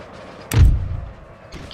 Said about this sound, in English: Keep using our artillery on these guys